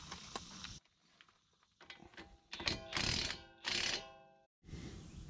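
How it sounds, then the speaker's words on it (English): Ratchet working the 19 mm strut bolts on a 2008 Honda CR-V front strut assembly: loud bursts of rapid metallic clicking, a few brief pauses between strokes, with no talking. "Now I've got to remove these 2 19mm bolts."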